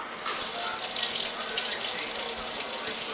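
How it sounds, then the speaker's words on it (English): Cold water runs in a steady stream, splashing and gurgling as it pours into a jar, continuous and close with no talking. "Alright, now I need to put some water in here."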